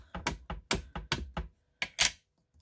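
A Stamparatus stamping tool clatters on a glass mat during multi-step stamping, giving about nine crisp, close clacks in an uneven run, the last a brighter, sharper knock before quiet.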